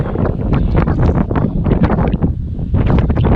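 Loud, blustery wind batters the microphone in choppy, rapid gusts beside Gillespie Dam and its river on Old US 80, a close rough roar with no talking.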